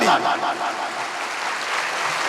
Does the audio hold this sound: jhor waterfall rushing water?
no